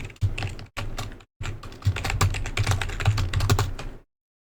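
Someone types a password on a computer keyboard to log in to an Ubuntu server. Fast, close clatter of key presses comes in short bursts, breaks off twice, then runs steadily before stopping.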